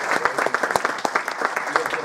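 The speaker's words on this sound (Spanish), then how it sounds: "Un fuerte aplauso a esa muchachita" A crowd at a Central American Independence celebration in Queens, New York claps loudly, with sharp individual claps standing out in an uneven, lively burst that has some voices mixed in.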